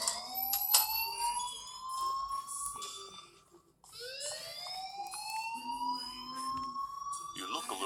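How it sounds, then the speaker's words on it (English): A fire alarm blares in the video game Life is Strange, its rising wails repeating in two long sweeps with a brief dip between them, loud and steady throughout. "please turn off that alarm"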